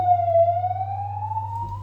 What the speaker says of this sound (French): Dans ma rue, il y avait l'ambulance.